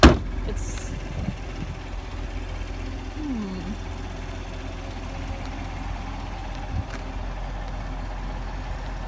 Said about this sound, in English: now it's Lauren's turn to drive